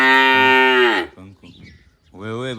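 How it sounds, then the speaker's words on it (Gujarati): A cow moos loudly and close at a cowshed, one long drawn-out low call, followed by brief rustling and the start of another moo. "એક કારી મધુ પરી અને કેસર 3 ગાયો અહીંયા હાજર છે ગૌશાળાએ"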